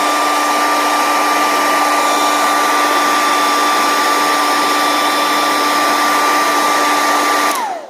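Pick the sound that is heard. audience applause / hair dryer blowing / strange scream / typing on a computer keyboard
hair dryer blowing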